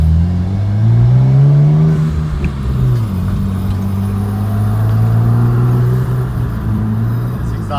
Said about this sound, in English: This exhaust sounds great.